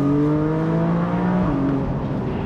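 A Porsche 718 Boxster GTS 4.0 naturally aspirated engine hums steadily at close range, its tone dipping slightly as the revs ease off, with no voices.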